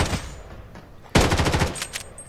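Pistol fire in the shooter game Blood Strikers: a single shot at the start, then after a pause a quick burst of about eight sharp, loud shots in close succession.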